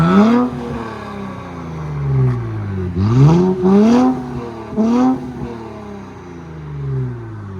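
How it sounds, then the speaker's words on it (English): A straight-piped 2023 Nissan Z with a 3.0L twin-turbo engine revs up close, rising and falling in three or four loud, quick blips with a faint turbo whistle riding on top before settling to idle. "You can hear the turbo whistle."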